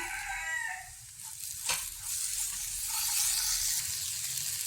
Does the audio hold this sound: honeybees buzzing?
no